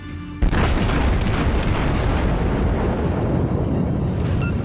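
Heavy naval guns of a Wyoming class battleship fire in a video game battle, a sudden loud boom at the start that rolls into a long, dense rumbling roar sustained to the end, with no talking.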